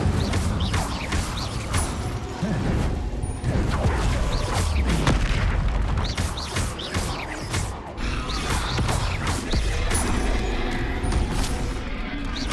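Hogwarts Legacy combat with spells cast in quick succession: a dense, continuous stream of magical blasts, booms and crackling impacts, loud throughout, with in-game voices calling out under the effects.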